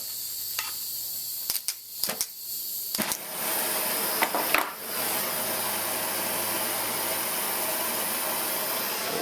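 A torch flame heats an aluminum boat transom cap, with a few clicks and bumps followed by a steady, close roaring hiss once the flame is lit.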